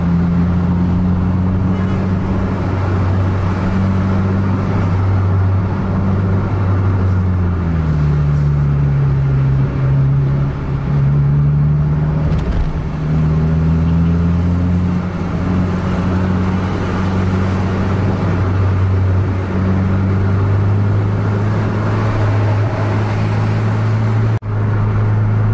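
A bus engine drones loudly and revs up while overtaking a truck on an open Sumatran highway, with pitch rising and falling through gear changes over steady road and wind noise.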